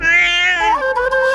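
A cat gives one long, loud, close meow that bends downward in pitch partway through, alone with no talking around it.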